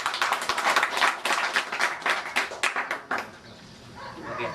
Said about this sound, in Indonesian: Mohon aplaus